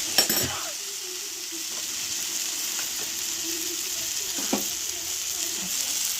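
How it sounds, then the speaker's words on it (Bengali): Spices, chopped tomato and salt frying in a pan while being stirred, a continuous close sizzle broken by a few sharp spatula knocks and scrapes against the pan. "এটাকে কষিয়ে নেবো নাড়ানাড়ি করে"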